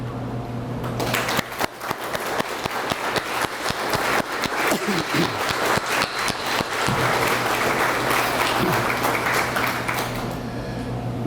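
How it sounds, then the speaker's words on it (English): Sustained audience applause for hometown heroes and first responders at a Riverside Fire Department celebration, a dense, steady wash of many hands clapping close by for about ten seconds with no talk. "we all give a round of applause to thank these hometown heroes"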